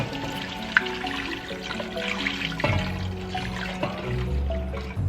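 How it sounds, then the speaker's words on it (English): Water pours into a cooking pot while making birria broth, a steady splashing stream that shifts in pitch as it fills, close and moderately loud with no talking. "Now add in your water."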